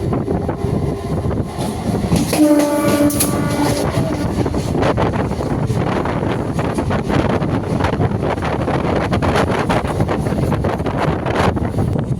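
A local electric train rumbles and rattles continuously as it arrives in a noisy station, with wind buffeting the microphone and a brief high whine rising then fading.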